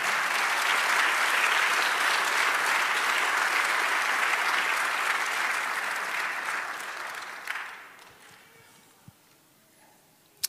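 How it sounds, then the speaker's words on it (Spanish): Loud, dense applause from a church congregation fills the space for about seven seconds, then thins out and fades, leaving a few scattered claps at the end. "Dale un aplauso al Señor,"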